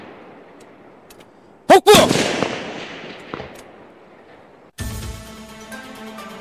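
A sniper's rifle fires at 300 m targets outdoors: two sharp, loud, close cracks in quick succession, each rolling off into a long echoing decay. A voice speaks briefly, and music comes in afterward.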